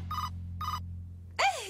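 Two electronic telephone rings, each a short bursting trill, sound clearly over a low steady hum, followed by a louder sweeping tone as a call connects during a radio broadcast.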